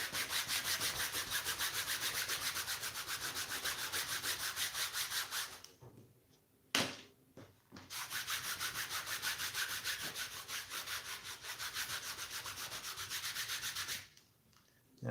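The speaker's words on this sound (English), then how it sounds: "it's going to be great at getting rid of saddle soap and cleaning up your leather" Leather being rubbed and cleaned to remove saddle soap makes rapid, rhythmic scrubbing strokes close up, with two brief pauses between bursts.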